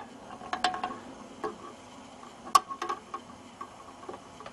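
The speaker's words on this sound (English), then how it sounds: "to put the gearbox back in, you just have to slide the front air nozzle into the hop unit" An airsoft BAR 1918A2 gearbox air nozzle slid into the hop unit gives sparse, close plastic-and-metal clicks and light scrapes, with one sharper snap partway through, in a quiet room.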